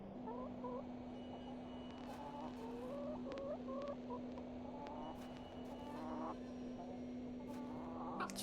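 Chicken in the video game The Excavation of Hob's Barrow, several soft clucks and short rising calls repeating irregularly over a steady hum and faint background music, fairly quiet.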